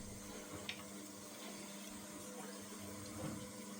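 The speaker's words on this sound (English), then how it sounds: "I'm just going to turn my hot water tap on." A hot water tap running into a sink during carpet stain cleaning prep, a faint steady hiss of flowing water with a couple of small clicks, quiet and close, no speech.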